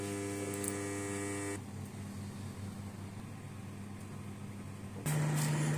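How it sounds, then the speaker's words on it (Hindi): A microwave oven set to 200 °C runs its convection preheat, giving a steady electrical hum with a buzzing tonal whine that drops to a softer drone, then a louder hum resumes near the end; no talking. "सबसे पहले हम जो है माइक्रोवेव को स्टार्ट करके प्री हीट करेंगे।"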